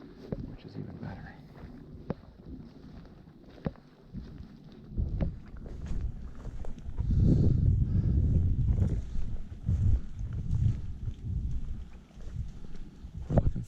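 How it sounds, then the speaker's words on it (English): Gusty wind buffets the microphone while kayaking on open water during a deer hunt, swelling into loud low rumbling bursts in the second half, with someone talking over it. "That wind turned from blowing straight across to blowing right in my face"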